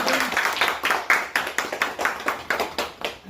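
An audience claps at a Shiv Sena appointment ceremony, a quick run of sharp, evenly spaced claps close by, loud and steady before thinning toward the end.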